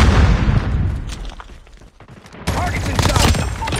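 Grenade blasts and rapid gunfire from a Call of Duty Mobile multiplayer match fill the mix, with booming hits and dense crackling bursts that thin out midway, then return loudly, while in-game voice callouts play over the action.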